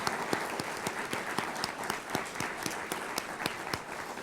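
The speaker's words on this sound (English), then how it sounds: "One more round of applause also for Pat Farrell's involvement" An audience at a gift announcement event gives a round of applause: steady, fairly soft clapping from a crowd with sharp individual claps standing out, and no speech over it.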